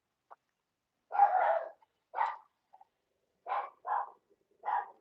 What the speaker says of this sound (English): Y'all hear my dogs up there talking to the people walking down the street?